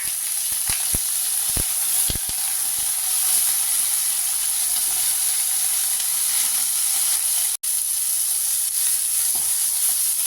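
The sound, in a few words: raw green mango pieces frying in a pan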